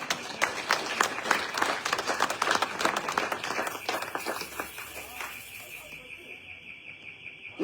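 A church congregation claps together in a lively burst of applause that rolls on for several seconds, then fades out, leaving a faint steady tone and some murmuring voices.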